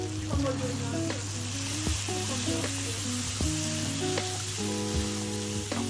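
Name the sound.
stirring and mixing the hilsa fish curry in the pan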